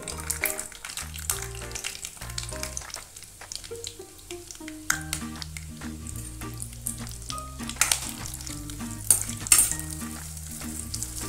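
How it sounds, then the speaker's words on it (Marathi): Garam masala and dried coconut fry in oil for a Koli-style crab gravy paste, giving a crackling sizzle with stirring under steady background music. "वाटण वाटण्यासाठी आपण पहिला याच्यामध्ये तेलामध्ये गरम मसाला, सुकं खोबरं,"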